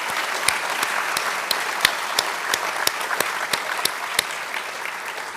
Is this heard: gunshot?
no